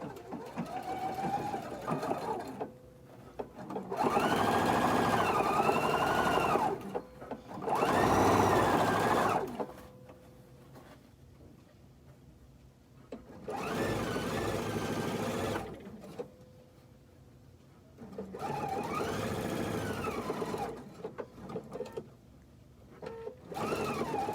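A sewing machine runs in several sustained bursts while stitching an outdoor cushion cover with a piping foot, its steady whirring hum loud and close, with short quiet pauses between the runs.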